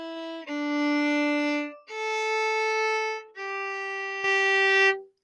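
The second line of Happy Birthday is played slowly on a bowed string instrument, four long sustained notes with smooth bow changes, close and clear with no speech.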